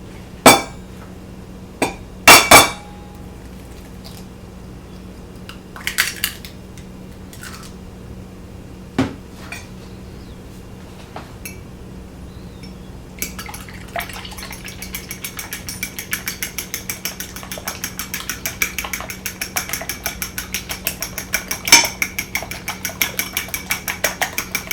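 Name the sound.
cracking and lightly scrambling eggs in a bowl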